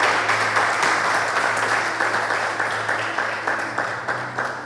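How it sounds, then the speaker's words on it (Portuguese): A church congregation applauding during a home worship service, a sustained wash of many hands clapping at moderate distance, steady and gradually softening. "Se você puder, aplauda o Senhor Jesus, glorifique o nome dele."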